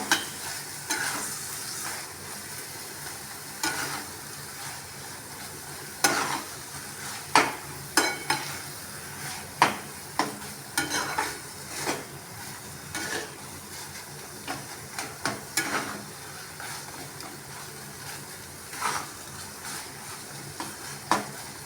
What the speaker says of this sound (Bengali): এটা আমি এই 2 থেকে 2 মিনিট একটু এমনি নাড়াচাড়া করে